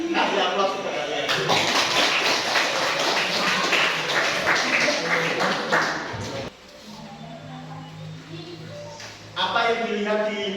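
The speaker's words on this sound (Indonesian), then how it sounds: "Kasih aplaus untuk kalian" A classroom of students bursts into applause, a dense wash of clapping lasting several seconds before it cuts off, with voices speaking around it.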